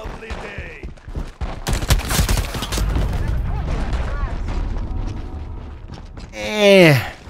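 Assault rifle gunfire in the shooter game Shatterline: a burst of sharp rapid shots in the first seconds, then dense rumbling game noise with voices talking over it and a rising whistle near the end.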